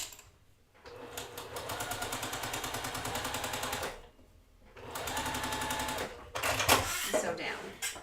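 A sewing machine stitches quilt fabric triangles in two steady, rapid runs of needle chatter separated by a short pause, close up, followed by a few brief clicks and handling noises.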